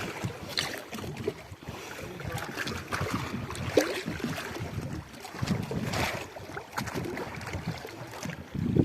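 A small fishing boat runs across open water toward its mother boat, with a continuous rushing mix of engine drone, water splashing and wind buffeting the microphone, fairly close and uneven in loudness.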